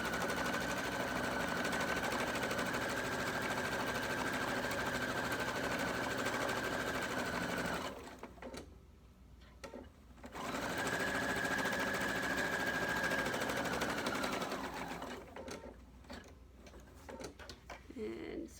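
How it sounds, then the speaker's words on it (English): A sewing machine runs in steady, fast stitching bursts while sewing a t-shirt into a pillow, stopping briefly around the middle and again near the end, close and fairly loud. "My sewing machine will raise up just a tiny bit for that purpose."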